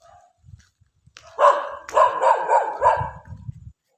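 A dog on a village road near Doddaballapura at about 3 a.m. barks in a quick run of four or five sharp, fairly close barks, with quiet night surroundings before and after.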